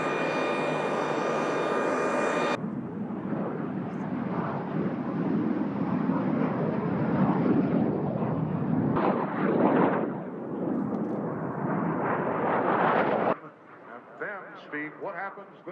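Jet aircraft at the Reno National Championship Air Races in 2012 roar loudly and continuously as they pass, with the engine noise surging and fading while someone talks over it.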